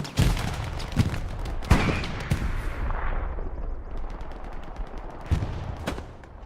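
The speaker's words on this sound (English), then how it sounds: "Evan, I think, is trying to mount the MG on top of the Belgian gate, but I don't think he really can, so he's just going to hip fire it" Machine gun fire from the hip in the Hell Let Loose World War II shooter: several sharp bursts and single cracks, loud and close at first, then thinning into scattered shots near the end.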